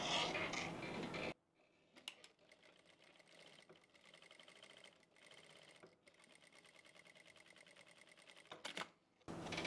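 A domestic sewing machine stitching a kurti seam, running in several bursts with short pauses between, its rapid mechanical chatter close and clear.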